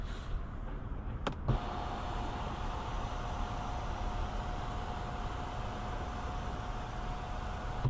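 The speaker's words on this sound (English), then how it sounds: "I want to open the sunroof or sunshade. Big panoramic sunshade." The large electric panoramic sunshade of a 2026 Infiniti QX80 Sport opens with a click, then a thin, steady motor whine runs quietly over the cabin hum.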